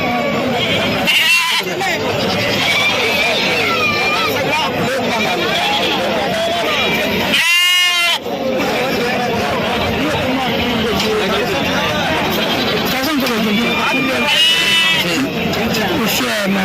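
A sheep lets out a loud, quavering bleat amid constant crowd chatter and voices at a busy sheep and goat market in Sangola.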